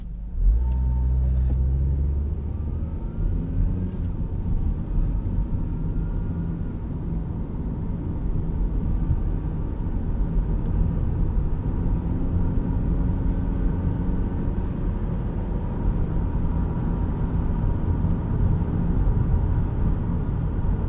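A 2013 Acura TSX Wagon drives along with a steady engine drone and road rumble, the transmission shifting smoothly through upshifts, heard from inside the cabin at a constant, moderate level with no talk.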